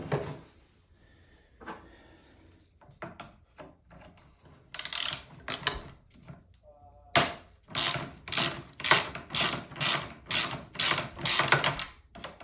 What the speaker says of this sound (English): same Allen wrench screws on both sides. So let's take those out.